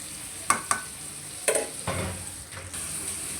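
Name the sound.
beef being fried with spices in a pan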